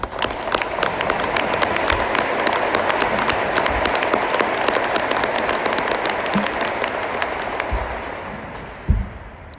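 A crowd at a Navy patrol squadron change of command ceremony claps in a dense, loud, sustained burst that carries on for several seconds before tapering, with a single louder thump near the end.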